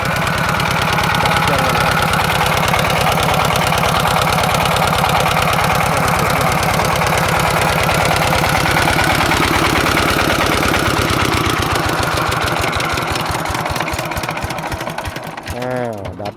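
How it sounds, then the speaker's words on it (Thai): Small engine left idling beside a drained fish pond in rural Thailand, a loud, close, steady rapid chugging that runs throughout and fades near the end, with someone talking over it. "ผมไม่ดับเครื่อง"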